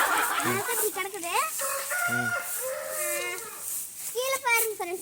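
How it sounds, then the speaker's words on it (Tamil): A rooster crows and chickens cluck on a farm where fowl are bred, the calls sounding close with a voice talking in between. "இந்த கோழி வெளியே நிக்குது"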